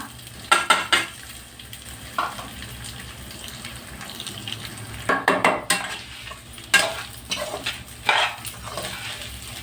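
Washed basmati rice being stirred into a sizzling tempering, with bursts of scraping and clattering against the pot over a steady low fry; no voices.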